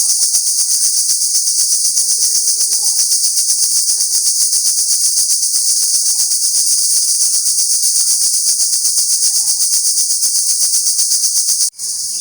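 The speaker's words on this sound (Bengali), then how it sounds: "মানে এত বিকট ঝিঝি পোকার আওয়াজ" Crickets chirp loudly and continuously in a dense, shrill pulsing drone that never lets up until a sudden cut at the very end.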